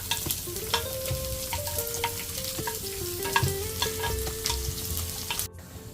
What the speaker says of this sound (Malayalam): വെളിച്ചെണ്ണ ചൂടായി വന്നിട്ടുണ്ട്. അപ്പോൾ നമ്മൾ നേരത്തെ കട്ട് ചെയ്ത് വെച്ച ചെറിയ ഉള്ളിയും പച്ചമുളകും അതിലേക്കൊന്ന് ചേർത്ത് കൊടുക്കുക.